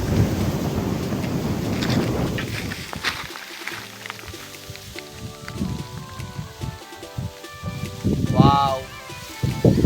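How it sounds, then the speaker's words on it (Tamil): Wind gusts against the microphone on the Rangamalai hilltop, strong and blustery at first and then fading into intermittent rushes while people talk nearby. "காற்று அடிக்கிறப்ப ஏசி காற்று மாதிரி"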